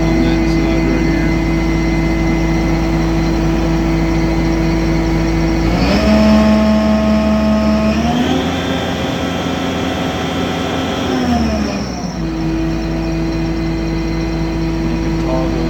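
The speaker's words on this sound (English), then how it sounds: "And now we can start the motor. You can rev up the motor on that side right here." A Ditch Witch HX75 motor runs with a loud, steady drone, then revs up to a higher sustained pitch for several seconds before settling back to idle.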